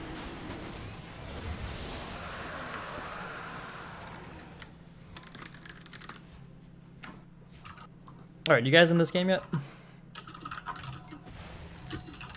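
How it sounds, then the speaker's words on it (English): Rapid keyboard typing from a player's computer during a live esports league match broadcast, light clicking under casters' talk, with a louder burst of voice partway through. "I hear a lot of typing from Sub's keyboard."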